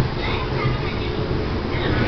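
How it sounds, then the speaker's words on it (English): A steady, loud rumbling roar of a Siemens Nexas service train passing South Kensington, broadband and continuous with no distinct breaks. "this train is going past South Kensington."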